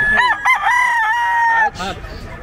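A fighting gamecock crows once at a pet market, a loud, close, drawn-out cock-a-doodle-doo lasting over a second, followed by a brief rougher call.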